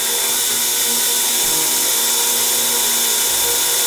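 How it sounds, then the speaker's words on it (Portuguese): A Sherline milling machine cuts metal with a 2 mm carbide end mill, giving a steady, even, high-pitched whine and hiss that holds for the whole stretch with no talking. "Observe com que eficiência que a fresa de 2 milímetros, uma fresa também de metal duro,"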